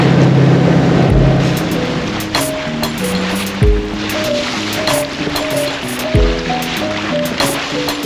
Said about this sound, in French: Rentrer à 2 nœuds avec le moteur à 2200 tours face aux vagues